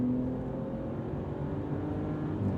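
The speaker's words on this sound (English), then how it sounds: "It's not that the engine sounds bad, it actually sounds like an M3" A 2025 Ram RHO pickup truck's engine drones in a low, steady rumble under acceleration, moderately loud and continuous, with no one talking.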